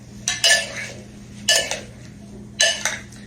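A utensil clinks and scrapes against a kitchen bowl while ingredients are mixed, in three short bursts of stirring about a second apart, close and fairly loud over a low background hum.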